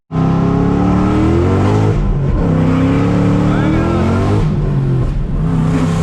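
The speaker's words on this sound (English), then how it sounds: "we just spun the tires in second and third gear" A Ford Mustang 5.0 with a Whipple supercharger roars at high revs with a constant loud drone, pitch climbing and dropping through gear changes, tires spinning in second and third gear.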